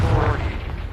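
Confringo fire spell from the video game Hogwarts Legacy, a brief, loud, low booming burst that rumbles through the whole moment.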